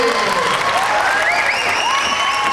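Audience at a youth forum clapping loudly and continuously, with cheers and whistles rising over the steady clapping.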